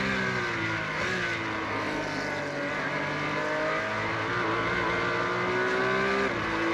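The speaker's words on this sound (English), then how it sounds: "Here we see Distant on that main stretch, now getting upwards of 167 miles an hour." A Porsche race car screams down the main straight at Autodromo Internazionale Enzo e Dino Ferrari in a racing video game, its engine holding a steady, loud high-revving drone with other engines layered in and no talking.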